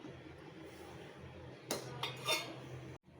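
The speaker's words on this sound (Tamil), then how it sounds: "இப்போ நல்லா ரசம் தாளிச்சாச்சு ஃப்ரெண்ட்ஸ் இதை நம்ம கிளறி விட்டுக்கலாம்" Spoon stirring tempered pepper rasam in a cooking pot, a few short scraping clinks of utensil against metal after a quiet stretch of low kitchen hiss, ending in a brief silence.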